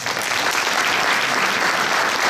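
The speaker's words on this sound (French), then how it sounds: "Vous pouvez à nouveau les applaudir." Steady, dense applause from a seated audience at a French municipal council installation in Bessan, filling the room evenly and loudly for the whole stretch with no voices over it.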